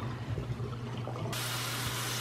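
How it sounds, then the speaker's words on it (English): Water draining out of a sink after soaking a yarn project, a low steady gurgling rush that swells into a brighter hiss partway through, faint and close with no talk. "I'm just gonna drain this water out."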